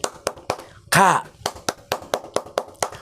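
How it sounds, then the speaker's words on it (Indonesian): Rhythmic Scout clapping routine, tepuk pramuka, led at a scout orientation for young cub scouts: a patterned series of sharp, close hand claps in quick beats, broken early by a brief vocal shout. "Yuk, tepuk pramuka, pramuka."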